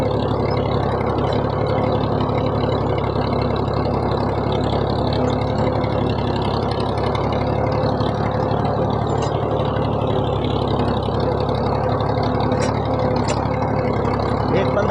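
A tractor ploughing and sowing a farm field runs with a steady, continuous engine drone throughout, close and unbroken, while people talk over it.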